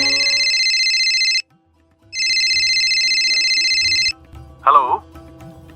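A telephone rings in two long electronic bursts with a short pause between them. A brief voice follows after the ringing stops.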